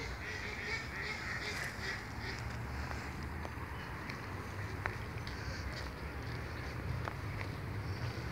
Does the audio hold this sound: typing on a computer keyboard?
no